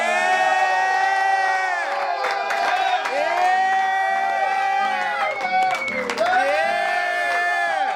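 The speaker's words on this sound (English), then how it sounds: "let's give a huge round of applause for Miss Lila Hart and Small Talk Live!" An audience at a live talk show cheers and whoops loudly, excited voices shouting in a crowd with scattered clapping underneath, sustained and close.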